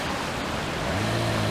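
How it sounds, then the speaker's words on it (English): A pretty little creek tumbling from one waterfall to the next in a steady, continuous broadband rush, loud and unbroken throughout with no voices. "it just goes from one waterfall to the next, to the next, to the next"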